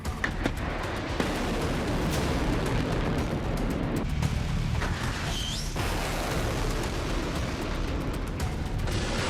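Missile interceptions by Israel's Arrow anti-ballistic air defence bursting in the sky over Israel against Houthi ballistic missiles: a continuous loud roar of distant rumbling booms and crackling blasts with no clear pauses.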